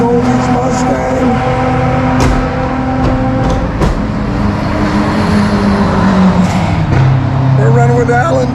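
A Ford Mustang race car with a 200-horsepower V6 overhead-cam engine drones steadily during a ChampCar endurance race at Sebring, shifting pitch now and then, with a voice talking over the engine throughout.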